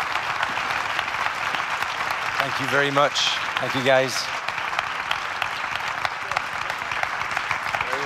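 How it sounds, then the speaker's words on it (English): Steady, dense applause fills a seminar hall at a cinematography film festival and continues for several seconds, while a nearby voice speaks briefly over it. "Round of applause for those wonderful people."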